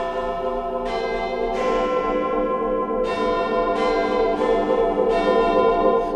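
Big Ben rings out over London during the morning commute, a series of loud, resonant bell strikes, each blooming and decaying into the next with a long, ringing tail.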